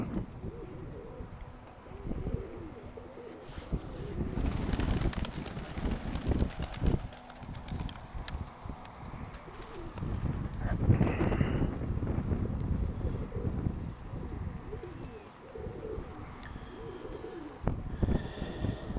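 Pigeons coo softly in a low, repeated rhythm outdoors, with occasional wing flutters and steady wind buffeting the microphone throughout.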